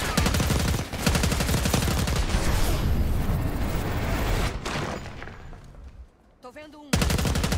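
Call of Duty Black Ops 6 gunfire, loud rapid automatic bursts with shattering impacts and booms, dense and continuous before briefly dropping away, a voice talking in between.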